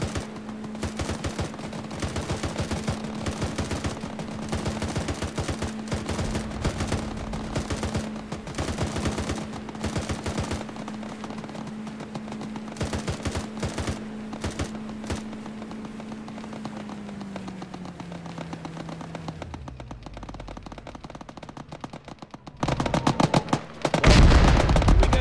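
Sustained gunfire from the video game Arma, soldiers shooting at bunkers on a beachhead: dense rapid bursts crackling over a steady low hum, thinning out before a loud final flurry.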